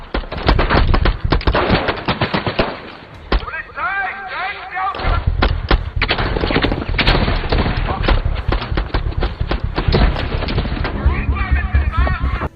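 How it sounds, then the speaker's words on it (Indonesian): Shootout between police and a special forces team in a film, with dense rapid gunfire, heavy thuds and impacts, loud throughout, under a narrating voice and some shouted dialogue. "sehingga aksi baku tembak pun terjadi."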